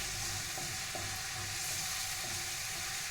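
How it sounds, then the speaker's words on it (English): Pancetta-style pork for pasta all'amatriciana sizzles and fries steadily in a pan, a dense, continuous crackle close up with no talking. "it's making a little foam and it's frying up and it's all getting happy and crispy"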